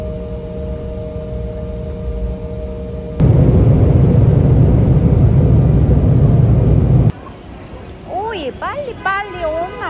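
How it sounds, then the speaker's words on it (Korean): Engine roar of a small passenger airplane at an airport, a steady loud drone that surges for several seconds and then cuts away to quieter cabin-like ambience with a few brief tonal chirps. "미니한 비행기다."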